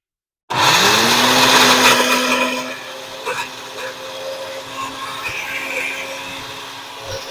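A kitchen blender whirs up suddenly and loudly, pulverizing pomegranate shells and seeds, its motor pitch rising then settling into a steady, slightly lower grinding hum with rattling chunks.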